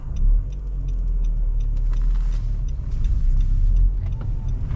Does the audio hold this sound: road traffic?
yes